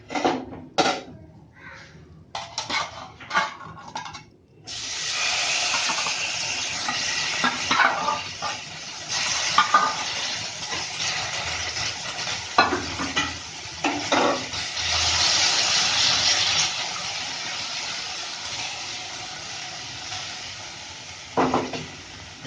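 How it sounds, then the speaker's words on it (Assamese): Rohu fish rubbed with salt, turmeric and chili powder is laid into hot oil in a pan: a few clattering handling sounds give way to a loud, sustained close sizzle with occasional scrapes and pops. "এতিয়া এইখন তাৱাতে মই নোধোৱা কৰি তেল আছে নহয়, মাছখিনি বহাই দিম"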